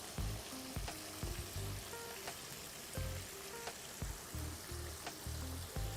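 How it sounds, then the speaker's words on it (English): Continuous crackling sizzle of chicken deep frying in hot oil, with frequent sharp pops and bubbling throughout, heard close up. "you gotta always step back a little bit when you're deep frying"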